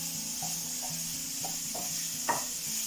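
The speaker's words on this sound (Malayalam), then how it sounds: "നന്നായിട്ടൊന്ന് വഴറ്റി കൊടുക്കാം" Mushroom masala sautéing in a pan, a soft steady sizzle with repeated light scraping strokes of a spoon stirring and one sharper clack near the end.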